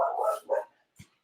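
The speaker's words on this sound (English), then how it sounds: "So that's my dog." A pet dog barks a few times at close range in a home during a career-day talk, two loud barks followed by a brief fainter yip, with no talking over it.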